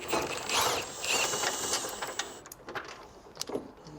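Bolts are loosened and removed from a car's control arm, with close metallic ratcheting and mechanical whirring bursts and clicks of tools, alone without talk.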